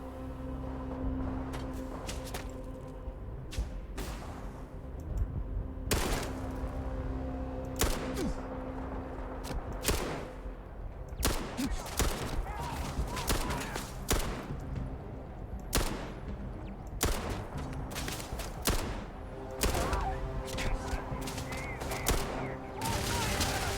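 Pistol shots ring out in Starfield, many sharp cracks in irregular bursts and clusters across a long stretch of combat, loud and near over a rumbling background.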